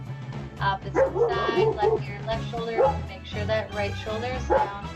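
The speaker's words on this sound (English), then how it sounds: "I don't know if you can hear my dogs barking" Pet dogs bark and yip in short repeated bursts in the background at home, under a woman leading stretching exercises.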